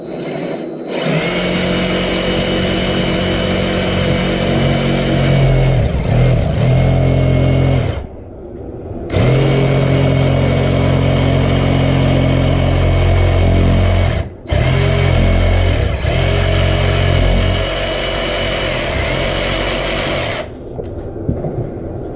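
Battery-powered jigsaw cutting through thick foam, a loud steady whining buzz close up, running continuously for long stretches with two short stops, no talking.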